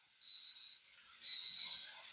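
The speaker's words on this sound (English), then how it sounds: "That always scares me when the timer goes off." Kitchen timer going off during home cooking of keto chicken meatballs Alfredo, sounding as two steady high-pitched electronic beeps, each about half a second long and separated by a short gap, fairly close and with no talk.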